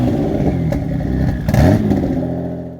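A Toyota MR2 fitted with a V6 turbo engine runs loud and close, a steady rumbling idle with clattering mechanical noise and a brief rise in revs midway before settling back.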